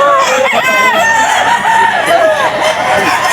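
Roosters and hens crowd a pet market with loud overlapping crowing and clucking close by, the calls layering continuously with a faint voice underneath.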